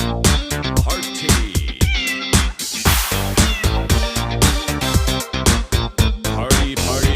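A cat-themed dance party song is built around sung meows, with bright, rhythmic, loud meow sounds repeating steadily over a thumping beat throughout.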